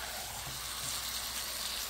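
Meat for a dry, waterless Bengali kosha curry sizzles in a frying pan after browned onions, a steady close crackling hiss with no voices.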